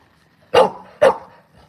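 Two loud, close dog barks in quick succession, separated by about half a second, with near silence before and after.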